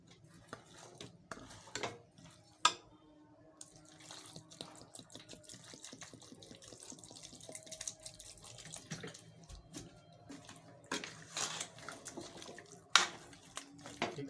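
About 750 ml of water pours steadily into a pot of beef dum pukht, a continuous close splashing stream with a few brief clinks and stirs, and no talking.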